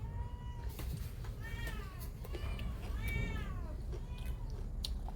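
A cat meows repeatedly, several drawn-out rising and falling cries over a rumbling background.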